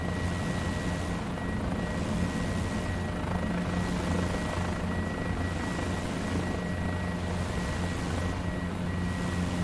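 A Guimbal G2 helicopter hovers in a flight simulator, its steady rotor drone and engine hum continuous and loud, with a faint periodic whoosh of blade passes throughout.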